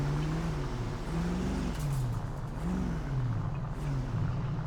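A Lamborghini Sian driven in the video game GTA 5 gives a steady, close engine drone whose pitch rises and falls gently as it cruises, with no talk over it.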